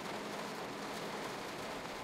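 Rain in the train simulator game Train Sim World 2, a soft, even hiss of rainfall spread across the whole stretch, faint and steady with no voices over it.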